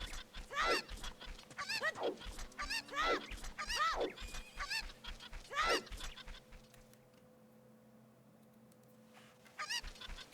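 A chicken in the video game Kingdom of Time makes repeated loud, squawking calls with a fairly regular rhythm, five or six cries in a row, then a pause before one more near the end.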